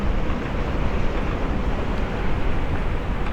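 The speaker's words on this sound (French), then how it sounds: "Il y a entre 35 et 40 nœuds de vent." Strong wind of 35 to 40 knots roars over a boat at anchor off Graciosa, a dense continuous rushing noise buffeting the microphone with no voices.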